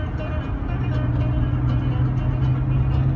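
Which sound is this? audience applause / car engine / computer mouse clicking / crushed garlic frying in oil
car engine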